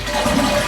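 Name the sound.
toilet flushing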